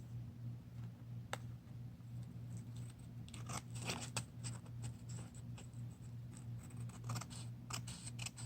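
Scissors trim excess napkin paper for a collage, producing soft intermittent snips and paper scratches close up, with a steady low hum underneath and no talking.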